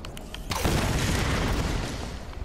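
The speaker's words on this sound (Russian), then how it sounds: "здесь очередные взрывы будут пещерные" A deep, rumbling cave explosion booms out after a brief crackle in the video game Tomb Raider, its roar filling the sound and slowly fading over a couple of seconds.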